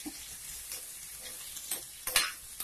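Onions and tomatoes sauté in a pan with chilli powder, coriander powder and mutton masala for a mushroom kulambu; a soft, close sizzle is broken by occasional clinks and scrapes of a spoon stirring, with no talk.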